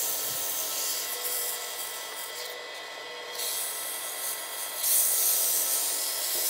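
Sandpaper rubs back and forth over wood, a continuous hissing rasp that swells and eases in strokes at close range, with no voices.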